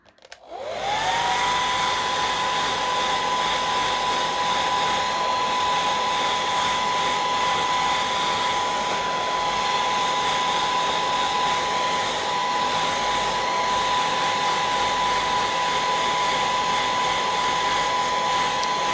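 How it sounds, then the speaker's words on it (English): A hand dryer starts with a click and spins up into a steady, loud, high whining blow that runs on unchanged without pause. "I'm going to use my hand dryer"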